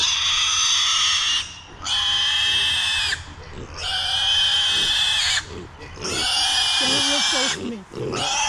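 A kunekune pig grunts and oinks out in a pasture in four loud, close, drawn-out bursts separated by short pauses.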